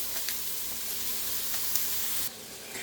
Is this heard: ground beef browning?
yes